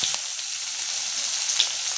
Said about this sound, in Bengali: তেজপাতা শুকনো মরিচ দিয়ে দিচ্ছি